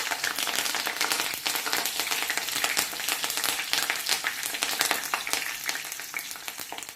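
Curry leaves, cloves and other whole spices fry in hot oil for a pasta dish, giving a steady, dense, close crackle and sizzle with no pauses.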